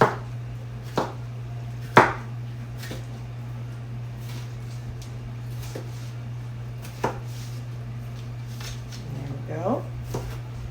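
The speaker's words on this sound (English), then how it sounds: "you know what's good to do when you're chopping veggies?" A knife chops vegetables for a salad on a cutting board, giving sparse sharp thuds spread out over several seconds, with a person talking throughout.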